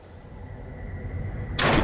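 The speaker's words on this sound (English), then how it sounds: "There's a door here. We're just going to go ahead and fiddle with that and walk away." A door in the video game Dark Wood is worked open, with a low mechanical rumble building under a faint steady tone before a sharp, loud burst of noise near the end; no speech.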